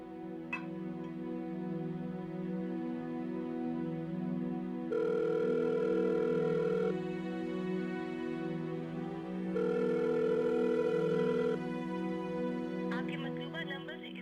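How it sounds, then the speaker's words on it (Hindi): A steady electronic phone ring pulses on and off in long repeated bursts over a constant low hum, continuing without interruption and with no voices. "इस जवान भी फोन नहीं उठा रहा मेरा।"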